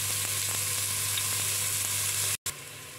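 Chopped onions and golden-fried garlic frying in a pan for stuffed cabbage in tomato sauce, a dense continuous sizzle close up with a steady low hum beneath and a brief dropout near the end.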